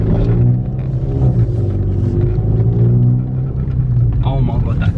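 A car with a Stage 2+ tune drives off under load with a deep, steady engine rumble and a rising drone as the clutch takes up, loud and close, with people speaking over the engine.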